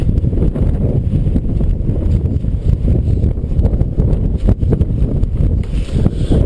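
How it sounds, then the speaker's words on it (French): Strong wind buffets the microphone in a constant low rumble and roar, gusting throughout with no voices heard. "Il y a pas mal de vent"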